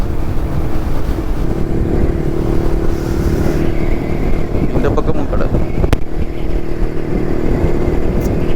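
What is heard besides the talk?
vintage Jawa 250cc motorcycle riding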